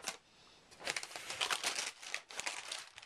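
Freezer paper crinkles and rustles as a handmade shampoo soap block is unwrapped, in close, quiet bursts of crackling that start and stop over a few seconds, with no talking.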